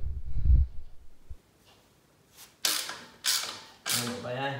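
An exhaust bolt is run in with a ratchet on a Royal Enfield Interceptor 650 during a new exhaust fitting: a dull low knock comes first, then three sharp bursts of metallic ratcheting clicks follow, each separated by short pauses.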